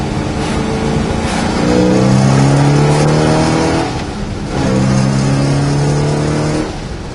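A 1967 Pontiac GTO with a 400 engine revs in two strong, sustained bursts, loud and close, its throaty roar rising and then settling back to a steady idle between pulls.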